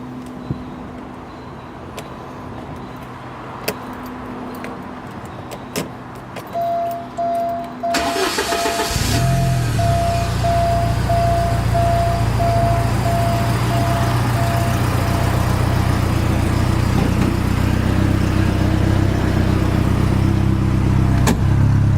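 A few clicks and a starter whine, then a 1989 Porsche 944 Turbo S engine catches and settles into a loud, steady idle with a deep rumble, revving slightly.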